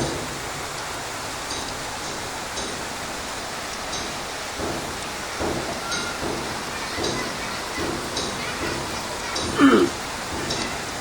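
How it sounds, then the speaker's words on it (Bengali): Heavy rain falls outdoors among trees, a steady dense wash of drops heard up close and continuous, with a few louder splashes and a brief thump near the end. "প্রচুর বৃষ্টি হচ্ছে।"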